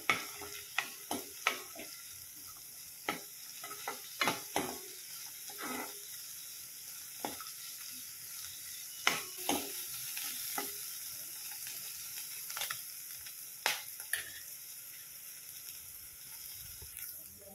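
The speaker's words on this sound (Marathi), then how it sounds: "गाजर टाकते, मटार टाकते। हे आपल्याला छान भाजून घ्यायचं आहे थोड्या वेळ।" Carrots and peas being roasted in a pan, a faint steady sizzle broken by repeated sharp scrapes and clicks from stirring that recur irregularly throughout, with no speech.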